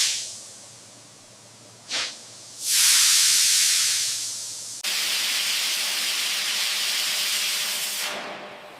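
Steam hisses loudly from camel biryani being dum-cooked under pressure in a large food factory, a brief burst followed by a long sustained blast, then a second steady hiss that cuts off near the end.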